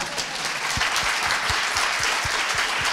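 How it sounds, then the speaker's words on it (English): A conference audience applauds continuously for the full stretch, a dense, even wash of many hands clapping with a few louder individual claps standing out. "Can I propose a big round of applause for her?"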